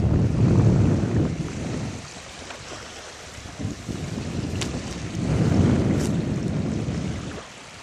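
Waves wash onto an Alaskan beach in two broad surges, with gusty wind buffeting the microphone throughout and no voices.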